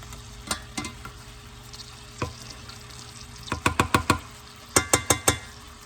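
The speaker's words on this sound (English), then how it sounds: "We are just cooking the sofrito until it's nice and green." Sofrito cooking in a pan gives a steady low frying hiss, broken by sharp scrapes and clinks of stirring that cluster into quick bursts toward the end, close by and with no talking.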